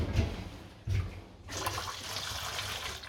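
Hot water runs from a tap for making Mount Athos-style Pontic bread dough with honey and orange, a steady close splashing stream that surges after a brief pause.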